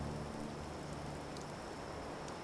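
Rain falls steadily in the game Fallout 76, an even hissing patter with a few faint drop ticks and no talk.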